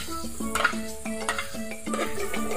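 Ginger and garlic sizzle in a frying pan while a utensil stirs them, with clattering metal strokes and tonal pan scrapes repeating over a steady frying hiss; close and fairly loud, with no talking.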